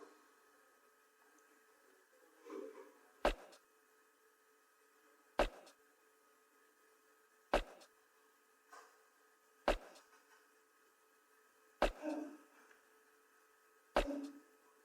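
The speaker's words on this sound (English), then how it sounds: "This is a conga, and this is how it goes." Sparse conga pattern from an Amapiano beat built in FL Studio: six evenly spaced, short, sharp hand-drum hits about two seconds apart, with softer muffled tones between them, quiet and alone.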